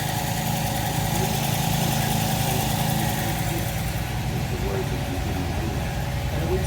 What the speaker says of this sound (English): can hear the RPMs coming up a little bit. It's leveling out, starting to warm up.